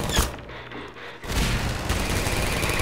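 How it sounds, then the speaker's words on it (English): A grenade explodes in the Half-Life 2 Update mod, a sudden loud blast at about 1.3 seconds that gives way to a dense, sustained rumble filling the rest of the moment. "let's just drop a grenade down, shall we, and just say goodbye"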